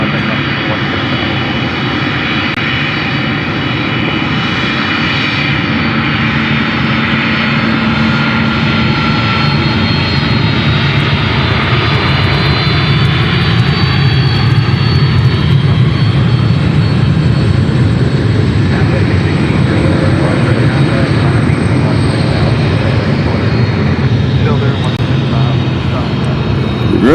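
A FedEx jet climbs away from Memphis International Airport with a loud, sustained engine roar whose tone slowly shifts as it departs, while radio chatter and voices run underneath.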